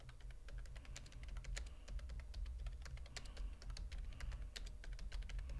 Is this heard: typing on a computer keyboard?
yes